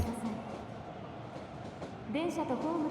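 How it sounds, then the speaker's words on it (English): A train arrives at a station platform in the video game Persona 5 Phantom X with a steady rail rumble and rolling hum under announcement-style speech, which grows louder near the end. "The train will be arriving shortly."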